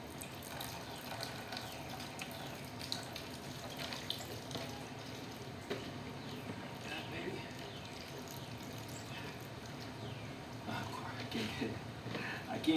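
Steady rush of water spraying from a hose runs throughout, fairly close and even, with faint splashes and small bumps over the flow.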